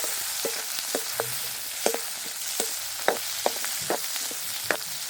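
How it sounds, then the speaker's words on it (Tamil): Curry leaves tossed and frying in hot oil in a pan, a continuous crackling sizzle punctuated by sharp spatters and pops, close and fairly loud with no talking. "கருவேப்பிலை எல்லாத்தையும் சேர்க்கிறேன். எல்லாத்தையும் பிரட்டி விடுவோம். எல்லாம் எண்ணெயில் பொரியும்"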